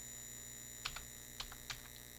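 A few quiet keystrokes on a computer keyboard, three or four separate clicks spaced out over a faint steady electronic hum.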